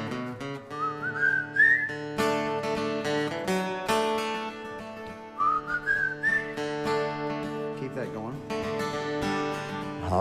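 People whistle a tune together, the melody carried by several whistlers with rising slides, steady and fairly close.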